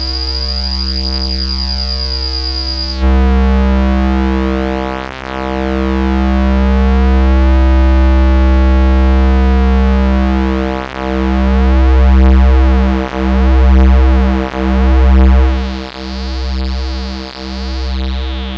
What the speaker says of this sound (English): So let's go ahead and start off with the detune,